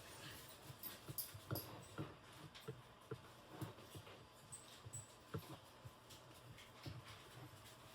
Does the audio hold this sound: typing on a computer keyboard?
no